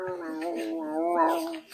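A human voice mimics a cat's meow, a drawn-out, pitch-sliding mewing sound delivered close and alone for nearly two seconds during a fantasy tabletop role-playing session.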